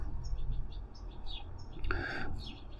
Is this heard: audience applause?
no